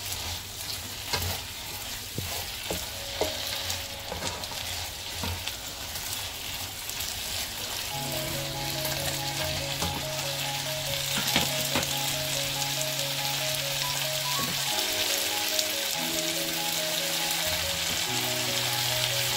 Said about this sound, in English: And then we can put our beef meat and mix it together.